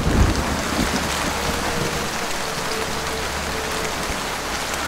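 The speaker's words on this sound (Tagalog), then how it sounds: "Tumuloy na nga noon ang pag-ulan bago nila marating ang tulay." Steady rain falls in a dense, even hiss with low rumbling beneath, continuous and fairly close throughout.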